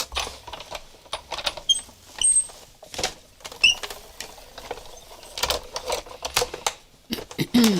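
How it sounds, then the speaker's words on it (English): Embossing folder holding paper die cuts cranked through a manual die-cutting machine, a series of close, uneven mechanical clicks, ratchets and rattling creaks in bursts, with short pauses between. "I put the die cuts into the embossing folder and cranked it through"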